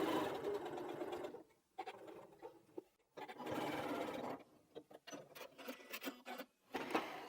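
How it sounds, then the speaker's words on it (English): Sewing machine stitching scrappy quilt binding in several close, steady runs of rapid needle chatter, each broken by short pauses, with a few quick stop-and-start bursts near the end. "I'm going to sew up to that line, back stitch a couple of stitches and cut my thread."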